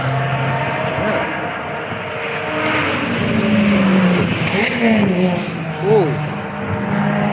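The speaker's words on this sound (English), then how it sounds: "There's a lot more Exiges coming out now" Several Lotus Exige sports cars pull out onto the Cadwell Park circuit at a track day, engines droning and rising in pitch as they pass at moderate distance, with a brief exclamation from a person nearby.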